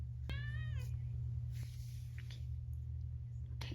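A house cat lets out one clear, drawn-out meow near the start, followed by softer rustling and small handling noises over a constant low hum.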